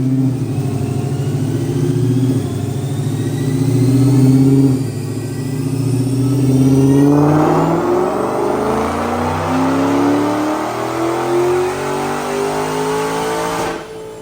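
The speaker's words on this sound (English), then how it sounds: "Check out this dyno pull." A 2022 Dodge Challenger Hellcat with long-tube stainless headers, a 2.85 pulley, a VMP throttle body, upgraded injectors and a custom tune roars through a full dyno pull. The loud engine note climbs steadily in pitch to high rpm, then cuts off abruptly.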